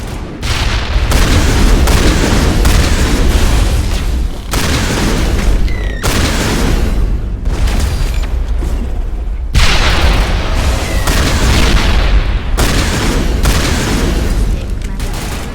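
Grenade blasts and gunfire in the Mass Effect video game, a near-continuous barrage of loud booms and bursts over about fifteen seconds with rumbling low end and a few brief cuts between volleys.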